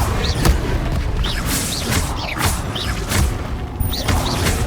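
Repeated Incendio fire spells cast in the video game Hogwarts Legacy, a string of loud booming flame bursts roughly every second over a constant rumbling battle bed, with no voices.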